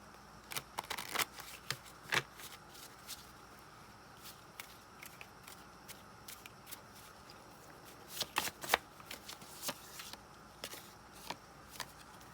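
Tarot cards being shuffled by hand, a series of crisp riffling bursts and soft slaps in irregular clusters, close and fairly quiet with no voices.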